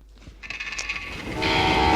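A train in the Call of Juarez: Gunslinger video game starts with clanking mechanical knocks, then swells into a loud sustained horn-like blare that holds to the end.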